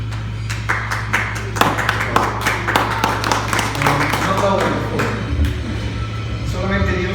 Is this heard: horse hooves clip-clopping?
no